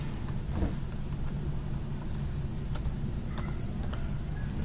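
Someone types on a computer keyboard, a steady patter of quick, light key clicks over a low background hum, with no talking.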